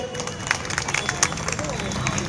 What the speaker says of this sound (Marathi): सर्वांनी टाळ्या वाजवायच्यात.